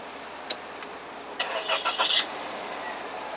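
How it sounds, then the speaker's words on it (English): A car engine is started while the vehicle stands still, a short cranking burst rising and fading over about a second, fairly close and alone after a faint click. "you now start the engine of the car"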